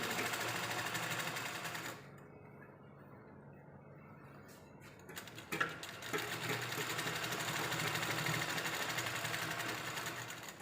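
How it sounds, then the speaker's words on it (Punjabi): An umbrella-type sewing machine stitches fabric with a steady rapid whirring hum that eases into a quieter lull, then revs back up to full running speed, heard up close. "ਆਪਾਂ ਥੋੜੀ ਜਿਹੀ ਸਿਲਾਈ ਲਾ ਲਗੇ"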